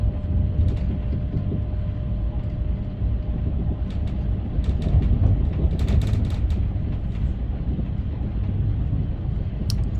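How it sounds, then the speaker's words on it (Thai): An express train running in cold winter weather in Denmark, heard from on board as a steady, continuous low rumble and rail noise with faint higher clatter, moderately loud and unbroken throughout. "อันนี้รถ รถไฟสายเร็วนะคะ"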